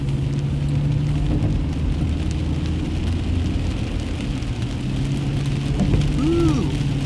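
Steady rain drums on a moving car during a rainy-day drive, a dense even patter over a low road and engine rumble, continuous and close, with no talking.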